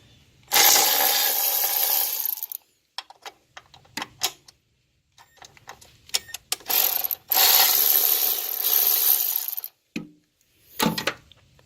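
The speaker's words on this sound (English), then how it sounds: "next step you want to do is loosen this bolt and this bolt, 10mm" A ratchet wrench loosening 10mm bolts on the coil cover of a Ford 4.6 DOHC Mach 1 engine: two long bursts of rapid close clicking, separated and followed by short ratchet strokes, taps and metallic clinks.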